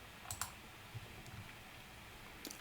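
Sharp computer mouse clicks while working in an Excel spreadsheet, a few quiet, isolated taps spread across a low room hum, with no talking.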